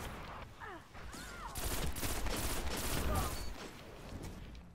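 Gunfire during a competitive video game match: a dense, continuous crackle of shots that builds to a loud volley in the middle and then thins out, with other game effects mixed into the background.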